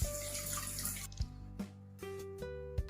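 Pork trotters rinsed under running cold tap water after blanching, a steady close-up gush of water into a sink with a few sharp knocks and clatters as the pieces are handled.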